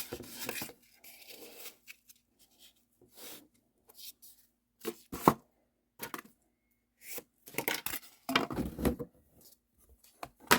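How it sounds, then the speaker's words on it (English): A blade cuts through foamcore board in short, quiet scraping strokes separated by pauses, close and faint, with a few sharper slicing bursts. "So I'll just cut another one exactly the same."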